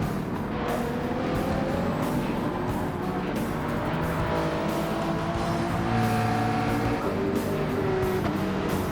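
Race car engines roar continuously in a racing game manufacturer race, shifting pitch as another car passes and pulls ahead, with faint tire squeal, loud and close throughout.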